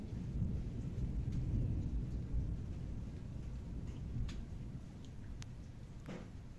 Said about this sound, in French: Orage en nocturne.